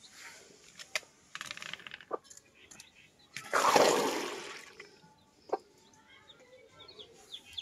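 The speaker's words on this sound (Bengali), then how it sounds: "আর এই মুরগিটা 2টা বাচ্চা নিয়ে টুং টুং করে।" A hen with two chicks clucks softly in short, scattered bursts, with a louder flurry of clucking midway, set against faint tapping and clatter at close range.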